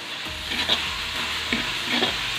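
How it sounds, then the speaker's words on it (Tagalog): Palabok sauce with annatto powder stirred in a hot pan, a steady bright sizzle broken by a few scraping stirs, close up with no talking. "Haluin lang natin."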